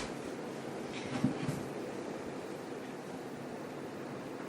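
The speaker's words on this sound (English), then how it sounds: "we're in the middle of a great big storm, and it is bucketing down with rain." Steady broadband rush of heavy rain pouring down during a storm, a dense continuous hiss with no voices, fairly loud and unbroken throughout.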